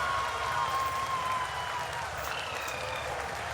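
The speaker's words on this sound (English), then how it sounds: "People are applauding." People applaud at a space agency control center during the Chandrayaan-3 lunar landing, a fairly faint, steady wash of clapping over a background hum, with a voice over it.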